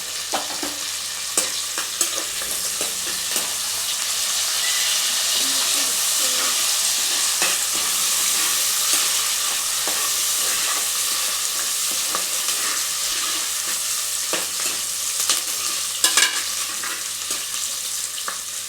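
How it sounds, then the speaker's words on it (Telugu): Curry leaves and spices frying in a pan for tomato rice, a steady loud sizzle with occasional stirring scrapes and clicks, running continuously without talk. "ఇక ఇప్పుడు కొంచెం కరివేపాకు ఇవన్నీ కొంచెం ఫ్రై కావాలి"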